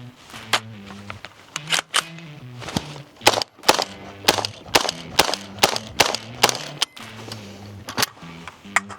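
An AR-57 rifle fires a long string of sharp, loud shots in an irregular rhythm, about two per second, as the shooter walks forward, each crack close and distinct.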